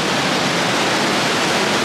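Water rushes steadily along the Sequoia river by a waterfall in Sequoia National Park, a loud, continuous broadband roar close by with no breaks.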